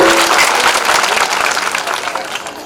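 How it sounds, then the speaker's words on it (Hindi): A seated crowd at an outdoor foundation-stone ceremony for a horticulture college in Morena claps loudly to welcome a guest, a dense, close wash of applause that fades slightly over its few seconds. "मैं सबसे आग्रह करना चाहता हूं कि हमारे क्षेत्र के राम निर्माणी नरेंद्र सिंह तोमर जी का ताली बजाकर स्वागत और वंदन करें।"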